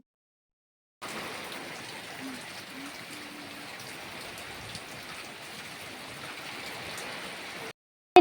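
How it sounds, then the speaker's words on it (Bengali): Steady rain falls outside a village home, a continuous hiss of drops on surfaces that runs evenly for several seconds at moderate volume, then cuts off abruptly. "কিন্তু বৃষ্টি পড়ছে"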